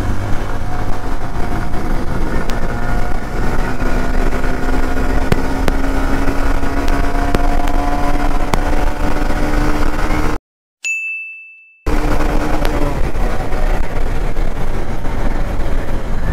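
A 2023 Honda SP 125 BS7 motorcycle with a 125cc engine and five-speed gearbox accelerates in third gear toward its limiter: a loud, steady engine drone climbing in pitch, broken once by a brief gap and a chime.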